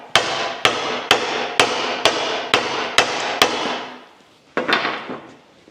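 Eight evenly spaced hammer blows ring out sharp and close as a part is driven onto a Scout drive shaft, followed by a short pause and one final strike.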